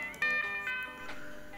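A soft notification bell effect rings out, a short bright chime with a lingering ringing tone at low volume.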